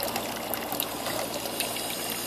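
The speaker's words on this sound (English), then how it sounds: "Just have a pump down there." Steady trickling and splashing water from a pump in an ejector system, a continuous close hiss of running water without voices.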